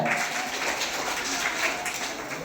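Audience clapping at a magic and mimicry show, a steady wash of applause from a crowd filling the whole moment without pause, fairly loud and even throughout.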